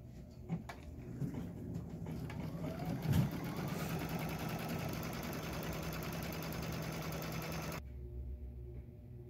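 An embroidery sewing machine stitches a tack-down on white fabric with a fast, continuous mechanical chatter, close and steady with a few clicks early on, then stops abruptly near the end, leaving quiet.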